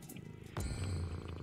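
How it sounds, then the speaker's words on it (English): A cat purrs in a video game, a quiet low rumbling purr that swells in partway through and continues steadily, with a faint background tone. "Oh, that's the cat that old lady has."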